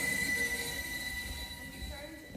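A crowded, sealed transport train starts up with a steady low rumble, and a thin metallic wheel squeal rings out early, all fairly faint throughout.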